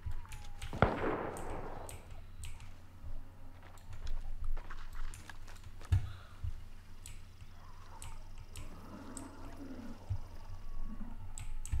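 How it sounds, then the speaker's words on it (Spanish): Gunfire in the video game Hunt: Showdown, a few sharp distant cracks scattered across a quiet ambient background, with one louder shot early on and fainter reports later, plus keyboard-like clicks. "Disparos vienen de aquí."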